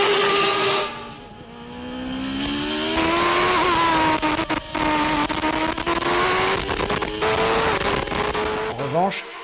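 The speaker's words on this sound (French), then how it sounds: "À 3 de front au freinage des combes, Prost se défend et garde son encombrant équipier derrière" Formula 1 cars of 1993 braking three abreast into Les Combes at Spa, engine notes dropping and shifting down in close, loud layered whines, with commentary talk running over them.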